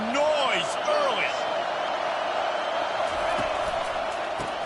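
A college football stadium crowd produces a steady, roaring wash of noise, with a few whistle-like whoops near the start and a commentator's voice talking over it.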